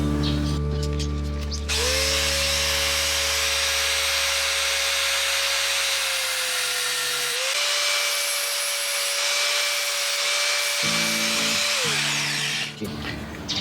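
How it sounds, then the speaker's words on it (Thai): A power cutting tool trims an overlong screw for Forza 350 handlebar end weights, giving a loud, steady motor whine whose pitch shifts and dips as the cut goes on, lasting nearly the whole clip. "หลังจากที่ได้ทำการตัดสกรูไปนะครับ"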